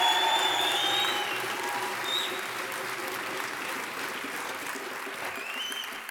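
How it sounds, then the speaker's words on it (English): Steady applause from a conference audience at a substance use disorders closing plenary, a dense wash of many hands clapping at moderate distance that fades gently over several seconds, with a few faint cheers. "Can we just give them one more round of applause?"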